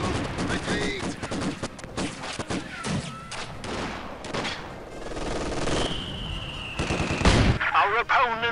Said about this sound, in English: We can mow down Ivan with our new MG.